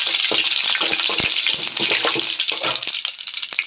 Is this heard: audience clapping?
no